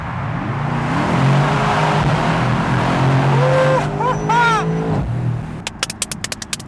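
A Mercedes C63 AMG V8 convertible revs and accelerates hard through a tunnel, its engine note rising and roaring loudly with echoing pitch sweeps, ending in a burst of sharp crackling pops from the exhaust; a voice talks briefly over it.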